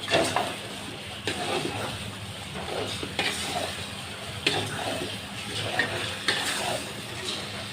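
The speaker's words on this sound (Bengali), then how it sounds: "এখন আমি মাংসটা দিয়ে এখন কষিয়ে নিলাম" Chicken meat sizzles in a hot pan with potatoes, a constant hiss punctuated by regular scraping strokes of a spoon stirring every second or so, close and moderately loud.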